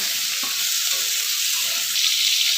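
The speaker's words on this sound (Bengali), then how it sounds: "একটু হলুদ দিয়ে দেবো, দিয়ে আমি আলুটা একটু ভেজে নেব।" Potatoes with turmeric frying in a pan, a steady close sizzle with light scraping stirs, brightening slightly toward the end.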